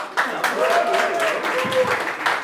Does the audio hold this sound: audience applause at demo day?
yes